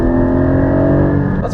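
Porsche 718 Cayman GT4 sports car driven on a curvy hill road in Northern California, its engine droning loud and close at a steady high pitch, holding revs without pause.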